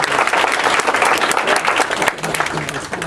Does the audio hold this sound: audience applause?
yes